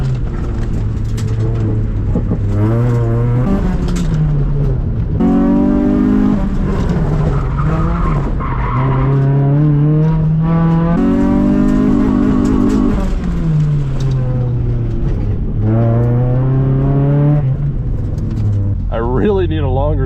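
A Nissan Sentra autocross car is pushed hard around a course, its engine note rising and falling through repeated accelerations while the tires squeal and skid, loud and close from inside the car, with occasional talking.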